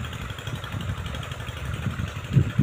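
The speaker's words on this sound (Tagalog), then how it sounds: "Buti na lang po at andar ko agad po yung water pump." A water pump engine irrigating a cornfield under hot sun runs at a steady, low chugging idle, moderately near, with a slight rise at the end and no voices.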